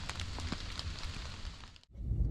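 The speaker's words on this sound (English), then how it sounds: "every time the wind blows, it's dropping all that water out of the trees just like it's raining" Water shaken from wet trees by wind in the woods, pattering and dripping like rain onto leaves and ground, a dense steady patter with a brief lull near the end.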